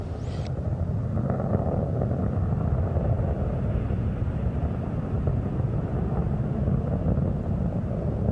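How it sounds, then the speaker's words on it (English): Space Shuttle Endeavour's three main engines throttle down during launch, heard as a steady, dense, distant rumbling roar that holds unbroken throughout. "3 engines on board the spacecraft are throttling down to 2/3 throttle to prepare the shuttle to pass through the area of maximum air pressure and go supersonic."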